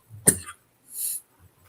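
A single sharp cough, close and fairly quiet, followed by a short breathy exhale.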